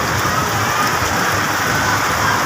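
Heavy rain pouring down suddenly, a dense, unbroken hiss of drops beating on surfaces, loud and steady throughout with no gaps.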